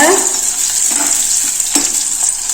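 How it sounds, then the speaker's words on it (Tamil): Onions and bitter gourd sauté in a hot pan for a bitter gourd curry, giving a steady, close, continuous sizzle with a few soft stirring scrapes and no talk. "பாவக்காய் போட்டு கொஞ்சம் வதங்கட்டுங்க"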